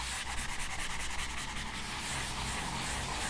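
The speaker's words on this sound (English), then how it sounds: "you just want to give this a nice sand" Hand sanding of drywall with a sanding block around an outlet box, a continuous close scratchy rubbing with quick back-and-forth strokes.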